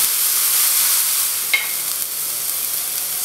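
Shiitake mushrooms sizzle in a hot pan with a steady, close, broadband hiss and no talking.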